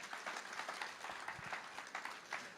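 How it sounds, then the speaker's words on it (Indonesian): A church congregation gives brief, faint applause, a quiet scattering of clapping hands with rhythmic peaks, heard from some distance. "Tepuk tangan buat Allah kita."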